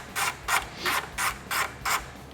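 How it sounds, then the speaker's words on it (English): A Torx T25 driver turns a top windshield bolt on a 2024 Harley-Davidson Street Glide, making six evenly spaced ratcheting clicks close by, each a short raspy burst, with no voices. "These top bolts, there's 4 of them, each corner. Take those out,"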